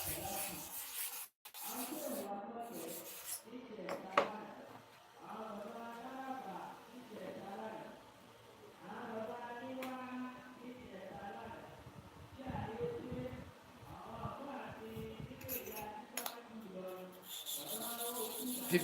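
Prince taper clipper blades being sharpened by hand, a repeated close rasping rub in steady back-and-forth strokes, with someone talking over it between passes.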